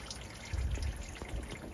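Dirty water trickles and pours steadily out of a pickup truck transmission during a fluid drain, a continuous close splashing stream with a slightly heavier gush partway through.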